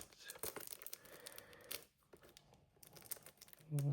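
Plastic wrap is torn and peeled off a steelbook game case made in Denmark, giving a run of close crinkling and tearing rustles that pause briefly and end with a soft handling thump.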